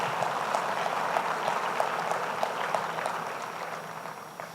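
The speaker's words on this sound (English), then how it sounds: "So let's give ourselves a round of applause for that." An audience at the Sustainable Denver Summit claps steadily in a large room, a continuous moderate patter of applause that slowly fades toward the end.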